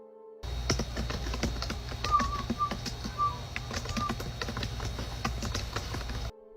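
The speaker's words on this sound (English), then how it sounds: "You can hear the clicking of the keyboard" Laptop keys clicking in a bedroom as someone types, a steady run of small close taps over a low room hum, with a few faint whistle-like tones drifting in from outside.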